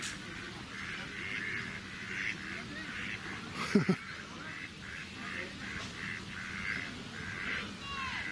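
Ducks on a pond at Portishead Lake, quacking repeatedly in a steady series of calls at moderate distance, with outdoor ambience around them and a brief louder knock or splash partway through.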